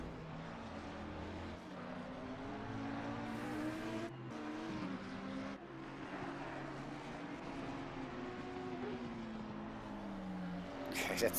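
Audi and McLaren race cars lapping Monza in a sim racing endurance event, engines droning and shifting pitch as they pass, heard under steady commentary.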